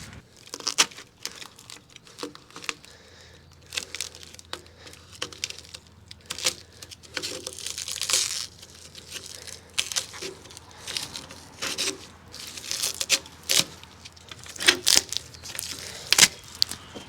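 Duct tape is peeled off a Mitsubishi 6DS70 Chrysler diesel engine, giving a long run of close crinkling, tearing and crackling rips in irregular bursts over a low steady hum.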